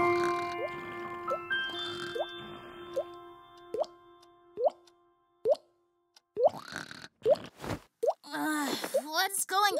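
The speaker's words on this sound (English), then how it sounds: "The tap is leaking." A leaking tap in a children's cartoon drips steadily, sharp watery plops at regular intervals, close and clear, then growing denser and more bubbly toward the end as a character voice speaks over it.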